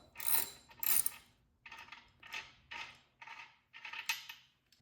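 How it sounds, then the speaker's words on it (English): A 15/16 socket ratchet loosens a motorcycle's rear wheel nut in about eight rhythmic back-and-forth bursts of fast clicking, close and clear, with no talk. "you can grab your 15/16 socket and then place it inside to loosen it"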